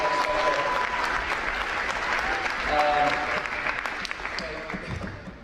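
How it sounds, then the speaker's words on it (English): A crowd applauds on a high school basketball court, sustained clapping that is strong at first and then tapers, with voices and a whistle-like tone mixed in. "Round of applause for all the people that helped me get back."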